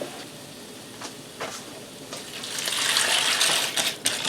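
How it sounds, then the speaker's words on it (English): Water poured into a pan of browned ground beef and raw elbow macaroni on the stove for taco mac and cheese, a steady splashing gush that builds louder toward the end with no talk. "And I'm also going to add in 2"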